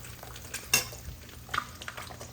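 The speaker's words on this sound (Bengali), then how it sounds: "তো এই যে এখানে আমি পরোটা ভেজে নিচ্ছি" Parathas frying in a little ghee in a pan, a soft, low-level sizzle with a few scattered scrapes and light clinks of a utensil, close and quiet, no talking.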